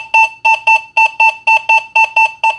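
An XP Deus 2 metal detector sounds its tone for a war nickel: a loud, steady electronic beep repeated about ten times in quick, even pulses, alone and close.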